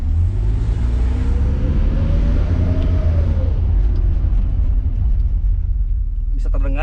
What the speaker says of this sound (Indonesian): Bisa terdengar suara mesinnya.